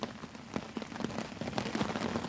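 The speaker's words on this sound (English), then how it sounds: "Big band of rain's just come over." A band of rain from a small storm patters steadily on nearby surfaces outdoors, with scattered louder drops punctuating the continuous hiss.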